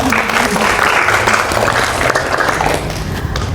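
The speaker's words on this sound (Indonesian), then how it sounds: "Dan aplaus untuk mereka dulu." A library audience at a literacy talk show claps steadily for guests, a dense, loud round of applause that holds through the whole moment and eases slightly near the end.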